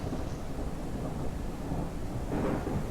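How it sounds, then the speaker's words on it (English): A distant thunder strike rumbles low beneath a steady stormy wash of rain and wind outdoors at an open pit work site, with the rumble swelling briefly near the end; no voices. "Ooh, that was a nice thunder strike, or lightning strike over there"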